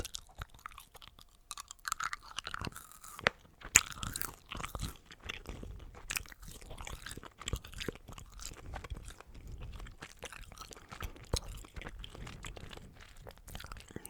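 Gum being chewed up close in a quiet room, steady wet crunchy chewing with soft irregular clicks continuing for the whole stretch, no talking.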